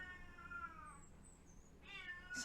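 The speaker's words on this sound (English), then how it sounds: "it's the cat, he's probably moaning for some fish" A cat meows twice, a long drawn-out wail and then a shorter one, fairly close in a quiet room.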